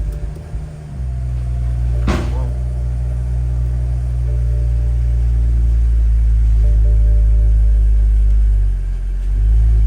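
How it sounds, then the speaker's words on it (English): A stock-exhaust BMW 335i engine idles with a steady, loud, deep rumble that holds for the whole stretch, broken by one short knock near the start; no one speaks. "let's shut this thing down because it's still kind of loud considering it's stock exhaust."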